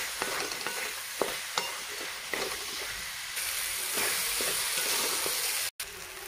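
Salted tomatoes for an onion-tomato chutney fry in a pan with a steady hiss, broken by occasional clinks and scrapes of a spoon stirring them.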